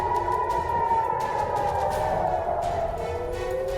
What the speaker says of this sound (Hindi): यहां पर भी जंगी सायरन सुनाई दे रहे हैं।